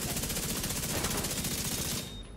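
Rapid automatic gunfire in a first-person shooter video game, an exotic Chameleon weapon firing at full damage: a steady, close, loud stream of shots for about two seconds, then cutting off.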